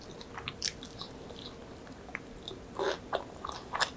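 Crunchy toasted bread topped with sweet corn cheese is bitten and chewed close up, with crisp, irregular crunches scattered over a quiet background. No talk is heard.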